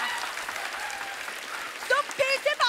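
A studio audience at a Hindi comedy talk show applauds, a broad wash of clapping that gives way to someone speaking over its tail.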